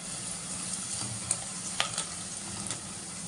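Asafoetida and homemade sambar powder fry in hot oil with a steady, bright sizzle, broken by a few sharp spoon clinks and crackles, heard up close without talking.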